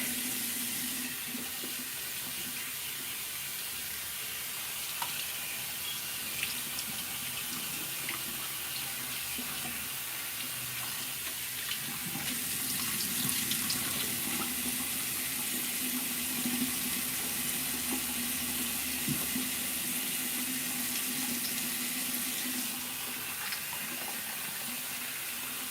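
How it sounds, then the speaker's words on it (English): Cold water running steadily from a bathroom tap while a face is rinsed, a constant close hiss and splash with small shifts in flow, no voices. "I just rinse it off with cold water."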